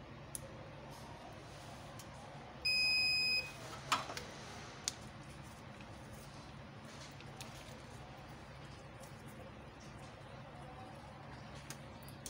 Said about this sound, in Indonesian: Untuk yang pertama kali akan saya nyalakan inverternya terlebih dahulu.